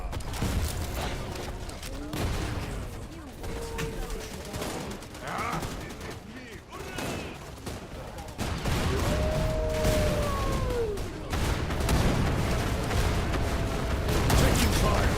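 Rapid, dense gunfire from the shooter game Wild Assault rattles almost nonstop through the whole stretch, mixed with clipped in-game voice callouts and a few rising electronic tones.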